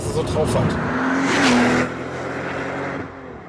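A Mercedes SL65 AMG Black Series engine hums and swells as it drives, rising briefly in pitch before settling, with a voice talking over it.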